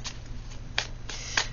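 Tarot cards being shuffled for a reading, two soft riffling bursts in a quiet room, close and faint, with no talking.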